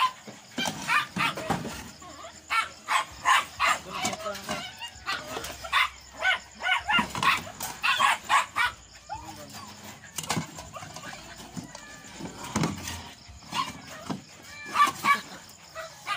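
Several pet dogs on a hillside property in Antipolo bark and yip in short irregular bursts, some near and loud, with occasional whimpers and brief human voices mixed in.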